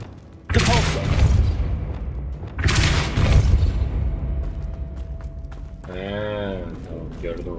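Two heavy magical blasts of the Depulso spell in a Harry Potter video game boom close and loud, each trailing into a rumbling decay, followed by a short spoken voice.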